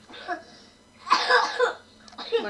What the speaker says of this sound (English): I hear coughing in the background.